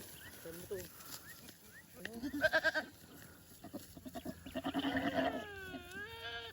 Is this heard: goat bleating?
yes